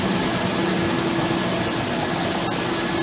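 A motorized path-cleaning vehicle rumbles by on a city running path in Melbourne before a marathon. Its engine is loud and close, a steady broadband drone that holds throughout, with no speech over it.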